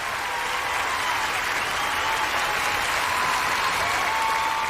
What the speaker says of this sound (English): Just listen to that applause.